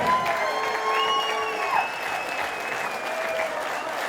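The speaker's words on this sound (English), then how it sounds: "both of these fighters deserving of the biggest round of applause you can give" Applause from a crowd at a fight event, steady and fairly loud across the whole stretch, with some whistles riding over the continuous clatter of hands.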